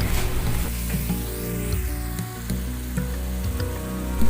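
Masala with four or five green chilies sizzles and fries in a pan while being stirred, a steady close crackle with occasional scraping clinks, no voices.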